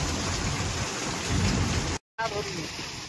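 Heavy rain roars steadily with a deep rumble of thunder mixed in, loud and close, cut by a brief moment of silence before the downpour resumes.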